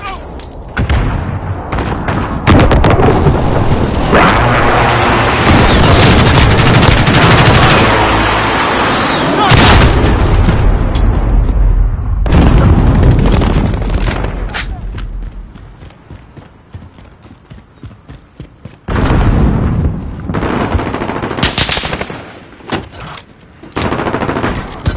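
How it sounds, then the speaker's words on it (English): A precision airstrike in a console shooter game: heavy explosions and gunfire roar loudly through the first half, fade briefly into quieter crackle, then return in bursts, with faint voices mixed in. "Enemy precision airstrike inbound."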